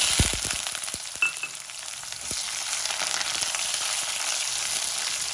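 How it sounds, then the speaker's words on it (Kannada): Onion, dry red chillies and curry leaves crackle and sizzle in hot oil after mustard seeds pop, a steady broadband frying hiss with a few sharp clinks and taps near the start. "ಈರುಳ್ಳಿ ಒಣಮೆಣಸಿಕಾಯಿ ಕರಿಬೇವು ಹಾಕೊಳ್ತಾ ಇದ್ದೀನಿ"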